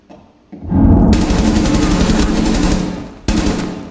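Sustained automatic fire in Rainbow Six Siege roars loud and close in a long continuous burst, then cuts off before a second short burst starts near the end.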